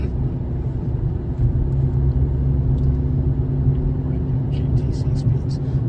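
A car drives a lap of the old Elkhart Lake road circuit, its engine a steady low rumble heard from inside, with someone talking over it.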